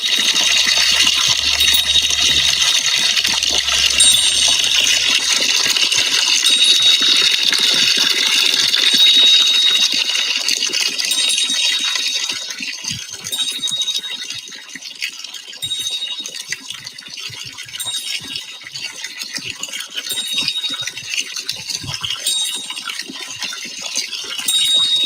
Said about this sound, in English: whenever there's a little stream, somebody will have put up this bell and prayer wheels